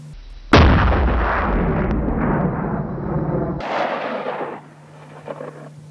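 A single loud rifle shot cracks sharply during varmint shooting, then echoes and rumbles away across open country, with a fainter second burst of reverberation a few seconds later.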